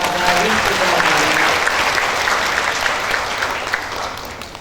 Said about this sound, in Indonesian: Kita berikan tepuk tangan buat para wisudawan.